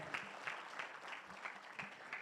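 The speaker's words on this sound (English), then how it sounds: "Now give yourselves a round of applause." Scattered applause from a conference audience at a morning keynote session, a thin, moderately distant patter of clapping with uneven bursts.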